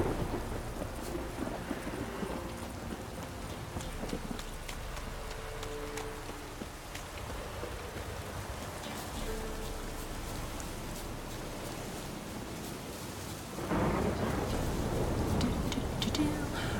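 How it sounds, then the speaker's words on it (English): Heavy rain falls steadily in a thunderstorm in the video game The Witcher 3: Wild Hunt, with low thunder rolling beneath it and a louder surge near the end. "so it's okay that there's a thunderstorm"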